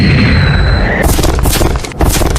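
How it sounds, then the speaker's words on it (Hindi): A loud anime explosion blast from Naruto Shippuden, one sustained roaring boom that crackles and rumbles across the whole moment, close and dominant with no talk over it. "धमाका है।"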